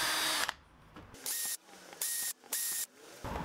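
Power drill boring a row of holes about half an inch apart for a shop vac nozzle, heard as five short, loud whirring bursts separated by brief pauses.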